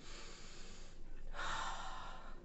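A deliberate, dramatic deep breath drawn in as a calming exercise for a child's emotional meltdown, a broad airy inhale swelling midway and held close and clear, with no talking.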